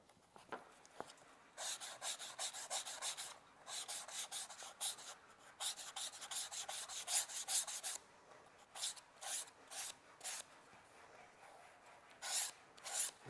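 Steady rhythmic rasping of sandpaper worked along the edge of a tooled leather graduation cap before dyeing, close and continuous strokes with short pauses.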